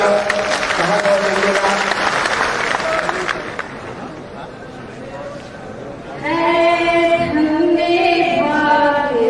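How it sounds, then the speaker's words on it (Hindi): Steady applause from a crowd at a Jan Suraaj political rally in Bihar, continuous clapping with voices speaking over it throughout, dipping slightly in the middle before swelling again. "एक बार ताली बजाकर"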